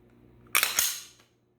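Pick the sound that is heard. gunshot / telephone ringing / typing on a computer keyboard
gunshot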